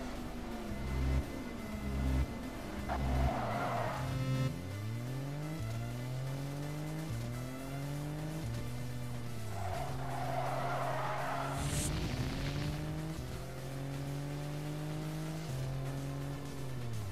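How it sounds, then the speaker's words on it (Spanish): Porsche race cars in an online racing video game accelerate through the gears. The engine pitch climbs and drops, and tires squeal in two bursts, all at a moderate, steady level with no talking. "acá tenemos el evento del Porsche, vamos a jugar unas carreras online contra algunas personitas"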